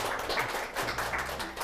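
Clapping from a seminar audience at a Korean career lecture show, welcoming a Nexen Tire HR team assistant manager onto the stage. A steady patter of many hands runs densely throughout.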